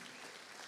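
A church congregation applauds to welcome a couple, a short burst of dense, continuous clapping filling the room.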